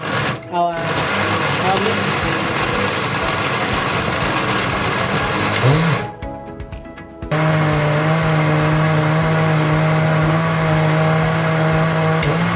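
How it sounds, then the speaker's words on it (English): A loud, steady motorized whirring of a blender blending a ginger, garlic and water mix, briefly stopping and then restarting with a higher steady hum, close up. "Then now we're going to blend our mix."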